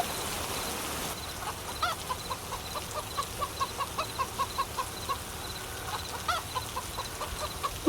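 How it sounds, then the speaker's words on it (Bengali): Chickens cluck in a quick, repeated series of short calls, fairly close, over a quiet background. "মুরগিগুলো চেঁচামেচি করছে মনে হয় খুব খিদে পেয়েছে ওদের"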